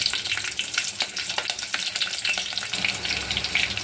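Green chillies and dry red chillies fry in hot oil in a pot for tomato rasam, giving a steady close sizzle with crackling pops and light stirring throughout, and no talking.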